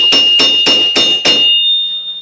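Five loud, evenly spaced hammer blows on rivets over a steel anvil, each strike ringing with a bright metallic tone that lingers and fades after the last hit.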